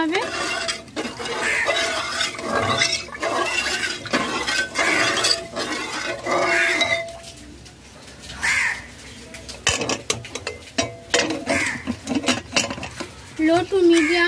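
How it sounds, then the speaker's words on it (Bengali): Payesh with date-palm jaggery stirred in a metal cooking pot: repeated scraping and clinking of a spoon against the pot, fairly close and busy throughout, with brief pauses. "ভালো করে নাড়াচাড়া করে নিতে হবে।"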